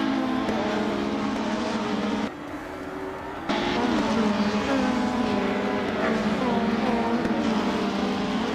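A 1994 Volvo 850 Estate races in a video game, its engine a steady droning roar with shifting pitch. The roar drops briefly and then surges back at full loudness.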